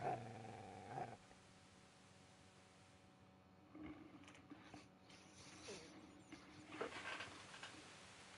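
A dog growls low and steadily in Kingdom Come: Deliverance II, a rough rumbling snarl with a few louder surges, heard alone after a brief burst of other game sound at the start.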